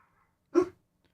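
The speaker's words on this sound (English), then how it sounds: "Pinkston's barking in the other room" A single dog bark from a pet named Pinkston, muffled and coming from another room, a brief moderately faint burst in an otherwise quiet space.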